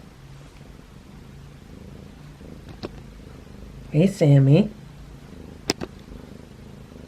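A cat purrs softly and continuously close by, a low steady rumble, while a person briefly calls out to another cat midway and a few light taps sound.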